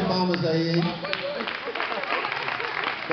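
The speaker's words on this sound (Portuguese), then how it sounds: "Samuel. Salva de palmas aí" A church congregation claps in applause, a dense, steady patter of many hands that follows a spoken voice and carries on for a few seconds at moderate loudness.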